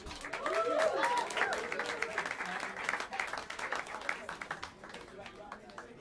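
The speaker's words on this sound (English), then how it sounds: "Let's bring hands together and give a warm round of applause for Lucas Allison on the drums" An audience at Smalls Jazz Club in New York City claps and cheers, the applause loudest at first and tapering off, with voices mixed in underneath.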